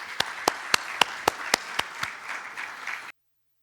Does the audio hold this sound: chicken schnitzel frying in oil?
no